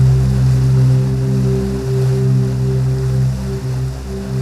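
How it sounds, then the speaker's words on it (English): Continuous roaring rush of big rapids on an Arctic river in Alaska's Arctic National Refuge, a loud, unbroken wash of water with a steady low drone running through it. "this is the biggest set of rapids on the river"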